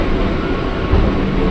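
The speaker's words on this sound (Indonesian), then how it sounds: "Dan kita berangkat nih dari Bojonggede bersama komuter" An eight-car KRL commuter train pulls out of Bojonggede station bound for Bogor, giving a steady, loud low rumble of wheels and motors with faint rail clatter.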